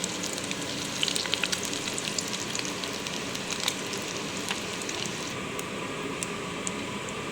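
Cumin seeds and onion fry in hot oil in a pan, a steady dense crackling sizzle with tiny spits and pops throughout, close and fairly loud, no one speaking.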